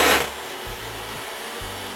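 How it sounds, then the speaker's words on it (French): An electric hand mixer whipping egg whites with a pinch of salt in a bowl: a brief louder whir at the start, then a quieter motor hum with low rhythmic pulses. "à l'aide d'un batteur électrique,"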